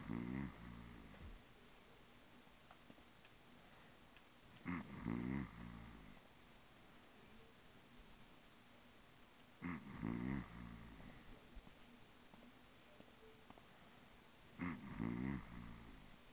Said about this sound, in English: Man, the guy snores loud.